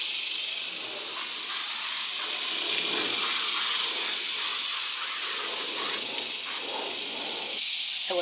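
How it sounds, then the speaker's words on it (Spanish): Aerosol mosquito repellent spraying outdoors near a child, a sustained loud hiss close by with slight swells and short gaps in intensity, running for several seconds without talk. "Solo voy a poner un poco de repelente de mosquito."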